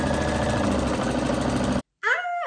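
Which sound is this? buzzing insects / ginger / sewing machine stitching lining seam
sewing machine stitching lining seam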